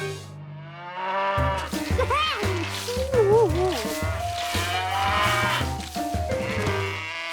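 Cartoon cows mooing and bleating in loud, wavering animal calls over a bouncy music background, several calls in quick succession.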